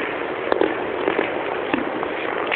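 Scattered New Year's fireworks pop and crackle at a distance, a few sharp bursts standing out over a steady background wash.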